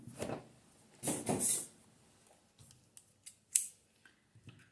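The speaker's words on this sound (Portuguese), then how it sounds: "Vou cortar aqui o fio." Scissors snip through yarn while crocheting an amigurumi doll, with a few close, crisp cuts: two louder snips early on, then lighter clicks and handling noises with quiet gaps between.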